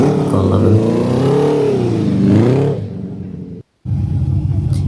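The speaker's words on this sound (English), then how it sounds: "this is the Pontiac, very loud" A Pontiac at a car show revs hard with a loud, rumbling exhaust roar that swells and falls, then cuts out briefly before the engine noise resumes.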